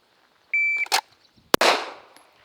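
Pistol fired after a draw from a Safariland ALS holster: a short tone, then two sharp, loud reports about half a second apart, the second trailing off in a long decaying ring.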